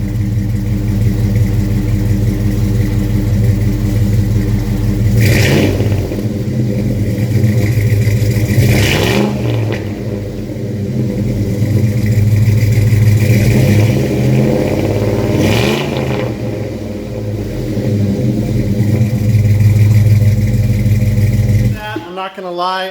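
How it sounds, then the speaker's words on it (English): A Chevy C10 engine rumbles loud and steady through an aftermarket exhaust, rising in three or four quick revs before dropping back to idle, with someone talking over parts of it. "Let me go back up there and give you a couple revs."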